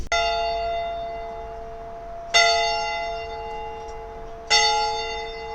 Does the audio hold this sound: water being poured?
no